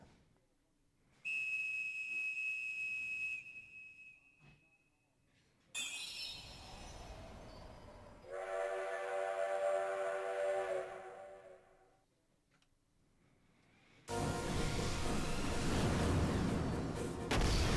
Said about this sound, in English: He drove a train into a dragon.